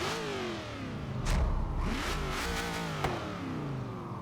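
A Ford Falcon GT F 351 in Forza Horizon 3 is revved several times, each throaty blip swelling and falling in quick succession, close and fairly loud with nothing else over it.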